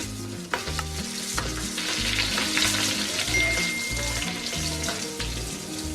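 Four large sliced onions frying in a pan, a dense close sizzle with crackle and popping, steady throughout with no talk, under a low rhythmic music bed.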